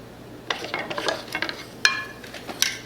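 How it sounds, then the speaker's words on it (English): A shallot toasting in a pan gives a soft sizzle under repeated scraping and stirring, with a few sharp metallic clinks of a utensil against the pan, close and fairly quiet. "Let's toast up the shallot"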